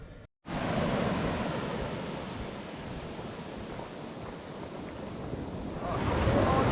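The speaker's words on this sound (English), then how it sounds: "So this is Culdaff Beach, and what a blindingly spectacular place it is this morning." Surf and strong wind roar at Culdaff Beach on Ireland's Atlantic coast, a loud, continuous wash of breaking waves and gusts buffeting the microphone after a brief silent moment at the start.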